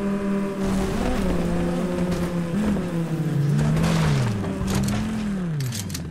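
A car in the video game Fortnite drives along, its engine note rising and falling as it accelerates and shifts, with occasional cracks and rustles of bushes being run over; no one talks.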